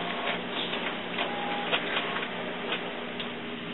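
HP Deskjet printer running, a close, steady mechanical whir with faint rapid ticking and clicks of the print carriage, no talking.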